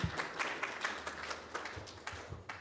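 Audience applause after a talk at a conference on politics and new media in the Muslim world, a steady wash of many hands clapping at moderate distance, fairly quiet and continuous with no voices over it.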